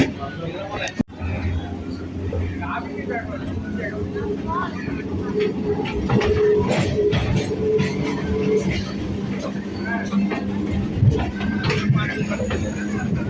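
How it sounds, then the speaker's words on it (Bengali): A train approaching on the Sealdah–Budge Budge suburban line near Park Circus gives a steady, low rolling rumble that swells slightly midway, with voices talking over it. "আর সামনে একটা ট্রেন আসছে দেখতে পাচ্ছেন"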